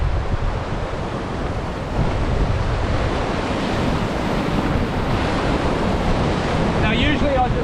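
Surf from the New Zealand coast washes and breaks in a continuous loud roar, mixed with gusty wind buffeting the microphone, with no voices.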